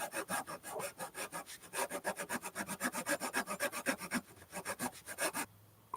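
A hand saw slices lengthwise down the middle of a wooden block for a violin back graft, making steady rapid back-and-forth rasping strokes, close and loud, briefly pausing before the final strokes; no talking.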